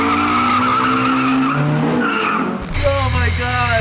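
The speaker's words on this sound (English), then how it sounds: "He burned out the whole way." A car doing a burnout, tires squealing loudly and continuously over a revving engine, with excited voices talking nearby.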